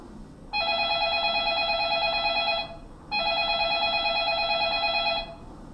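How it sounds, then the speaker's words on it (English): A telephone bell rings twice in a steady pattern, each ring about two seconds long with a brief pause between, clear over faint background hiss. "And the telephone for this sound."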